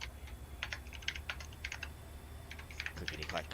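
Rapid clacking keystrokes on a mechanical computer keyboard in uneven bursts, close and fairly quiet, over a steady low hum with no talk.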